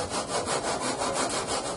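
Steady back-and-forth strokes of a hand saw cutting through a soft laminate panel for an armored door, rhythmic and close, with no voices.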